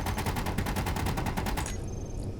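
Interior turrets in Space Engineers fire a rapid, evenly spaced automatic burst aboard a battleship, loud and close, then stop abruptly with a faint electronic tail and no voices.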